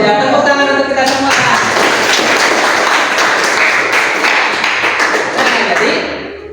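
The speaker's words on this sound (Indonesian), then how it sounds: "tepuk tangan untuk kita semua" Classroom applause, a dense burst of many hands clapping close by and loud for several seconds before fading out, with some voices mixed in.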